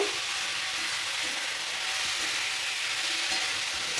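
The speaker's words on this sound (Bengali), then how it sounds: "হলুদ গুঁড়ো দিয়ে দেব সবজিটা একটু ভেজে নেব" Cabbage with turmeric and salt fries in a pan in a steady, close hiss of sizzling that holds even for the whole stretch, with no voices.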